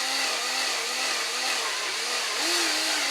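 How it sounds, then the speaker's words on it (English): Drill driver spinning a brass cartridge case while a tool trims its neck, a steady high whirring buzz with a faint pitch that wavers and dips slightly as the cut bites. "drill driver slowing down a little bit as it cuts"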